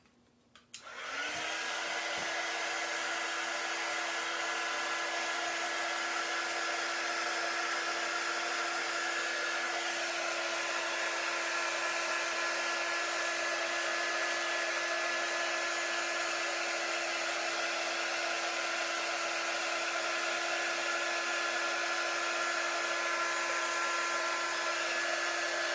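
A hair dryer blows steadily on star-shaped cookie cutouts, a loud continuous whir that starts abruptly and holds unbroken for the whole stretch, with no talking.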